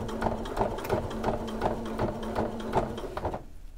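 A sewing machine stitches along a seam groove, running at a steady rhythmic clatter of needle strokes, close and loud, before stopping abruptly near the end.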